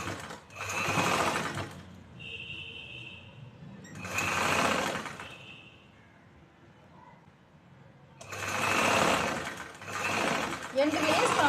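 A sewing machine stitches the shoulder seam of a choli in bursts of a few seconds, separated by quieter gaps with a faint hum.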